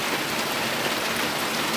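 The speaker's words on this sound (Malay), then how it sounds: "Suasana hujan. Tengok air tu. Air hujan." Dense, steady downpour of heavy rain, a loud continuous hiss with no pauses and no voices.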